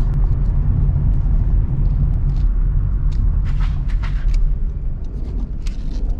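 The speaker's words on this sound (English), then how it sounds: "So I'm just gonna drive it around the block and see what it does." A 2016 Honda Civic with a junkyard engine driving around the block, heard from inside as a steady loud low engine and road rumble with faint clicks and rattles, no talk.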